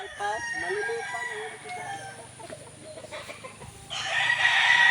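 Gamecock roosters crow loudly up close, one long cock-a-doodle-doo, then lower clucking, with a burst of bright noise near the end.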